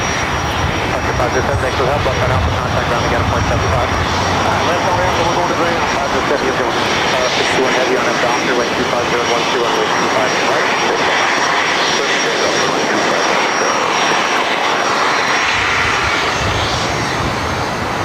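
Polar Cargo Boeing 747-8 freighter arriving at LAX from Tokyo Narita, a loud, steady jet roar filling the whole stretch near an airport, with people talking over it.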